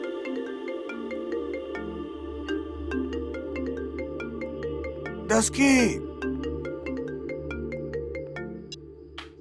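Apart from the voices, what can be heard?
phone ringtone ringing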